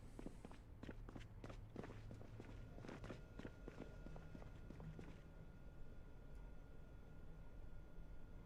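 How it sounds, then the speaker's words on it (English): Footsteps in the video game Project Zomboid patter in a quick, even series for about five seconds, then fade out, leaving only a low steady background hiss. "I swear I just heard more footsteps that weren't mine."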